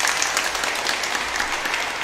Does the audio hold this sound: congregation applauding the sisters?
yes